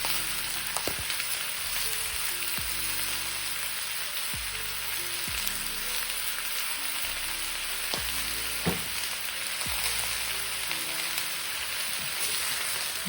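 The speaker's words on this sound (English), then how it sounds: "Give it a stir." Tofu stir fry with spinach, vegetables and black pepper sizzles steadily in a pan, while a spatula scrapes and stirs it in repeated sharp strokes throughout.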